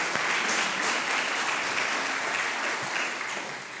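At a 2023 business awards ceremony in Ardenne Métropole, an audience gives a sustained round of applause, a steady, fairly distant hiss of many hands clapping that fades a little at the close.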